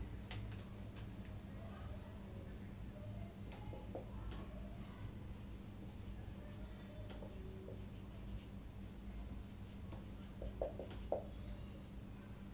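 Pen on paper writes out a sentence by hand, faint scratchy strokes and light taps scattered through a quiet room, with a few soft clicks near the end.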